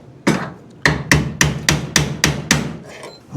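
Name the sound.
4-pound hammer striking a car A pillar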